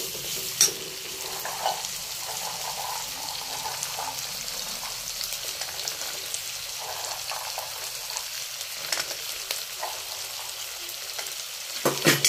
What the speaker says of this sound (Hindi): उसके बाद मिक्सअप करते हैं आलू मटर।